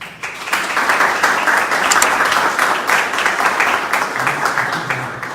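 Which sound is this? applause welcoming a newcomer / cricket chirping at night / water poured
applause welcoming a newcomer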